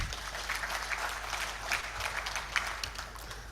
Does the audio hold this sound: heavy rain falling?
no